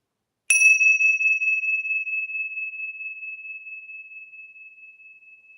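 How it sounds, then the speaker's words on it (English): A single meditation bell struck once, a clear bright ring with a sharp onset that sustains and slowly fades over several seconds, alone in silence. "keep listening for the stillness or the sound of the bells"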